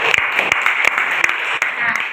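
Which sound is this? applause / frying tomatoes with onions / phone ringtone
applause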